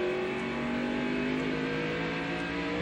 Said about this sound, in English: Now he drops the car into 4th gear and takes off after Jimmy Spencer.